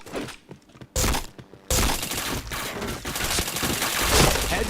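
Video game shooter gunfire, with sharp bursts and sustained rapid automatic fire heard loud and close, broken by brief gaps and a few thuds.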